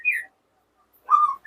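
Clear whistled song of a white-rumped shama, a short note followed by a pause and then a longer warbling phrase, close and isolated.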